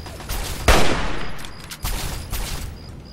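Gunfire in the Fallout 3 video game: a sharp, loud shot near the start, followed by a second report and a few fainter bursts of shooting over a steady background din.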